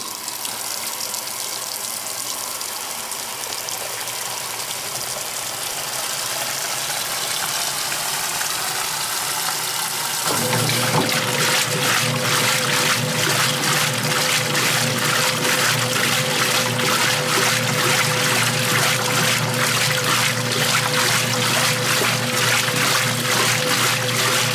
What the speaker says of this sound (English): this is going to be full, straight hot water, extra low water level, 8-minute wash